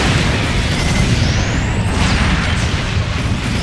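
Loud, continuous explosive rumble and crashing blasts in Gundam Extreme Vs. with the Turn A Gundam, dense booming filling the whole stretch with faint game noise above.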